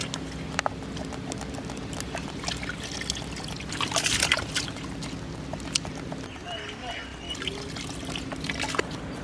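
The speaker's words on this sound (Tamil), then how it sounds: "அரிசியை கையோட போட்டு வந்துடலாம். நான் அரிசி போட ஆரம்பிச்சிட்டேங்க." Rice grains pattering and trickling into a pot of boiling water at an outdoor village cooking fire, a steady scattered rustle under ongoing talk and background noise.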